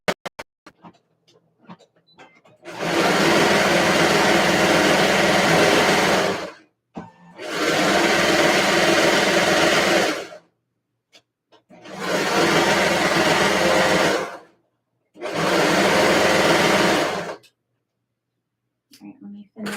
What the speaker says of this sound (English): Always serge the bottom parts of the shorts